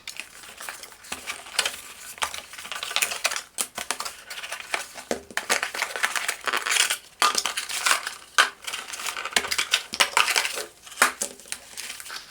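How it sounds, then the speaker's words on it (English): Cardboard packaging for a Philips S1141 electric shaver is opened up close, with loud crinkling, rustling and scraping of the box and inner plastic in dense irregular bursts, and no talking. "let's open the box to find out more about this product"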